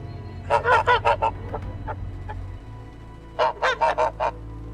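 Goose honking loudly in two rapid bursts of about five calls each, clear and close over a low steady hum, with no talking.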